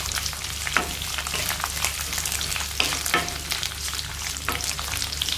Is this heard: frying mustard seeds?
yes